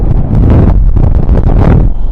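Strong, cold wind gusts buffet the microphone outdoors on a street in the Czech Republic, giving a loud, continuous low rumble with rustling bursts and no one talking.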